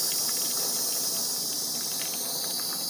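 A steady, soft hiss of steam escaping from the valve of a 3-quart Instant Pot Duo Mini pressure cooker runs unbroken throughout, with no voices.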